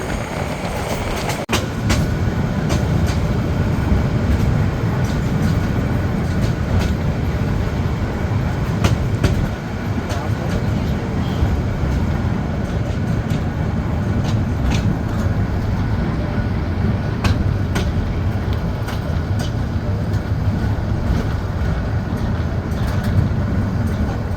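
Sagarika commuter train on the Chandpur to Chittagong line, heard from inside as a loud, continuous rumble with rhythmic clatter of wheels over rail joints, sustained throughout, with faint voices now and then.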